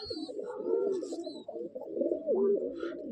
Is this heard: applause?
no